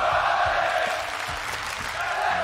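A crowd at an esports arena during a Counter-Strike match on Mirage cheers and applauds in a loud, sustained roar, with a caster's voice running underneath.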